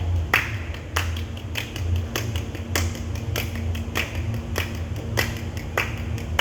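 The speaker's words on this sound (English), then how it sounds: "Clap both hands." Both hands clapping a steady beat during a music masterclass, sharp claps repeating at an even pace across the stretch.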